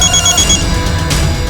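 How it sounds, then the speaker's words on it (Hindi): A telephone rings loudly and close by in a crime drama scene, a brief electronic warbling ring that fades into room noise after about half a second, with no one speaking. "सर, सरस्वती का फोन था।"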